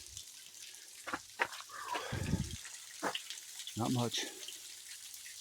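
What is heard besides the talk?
small creek water trickling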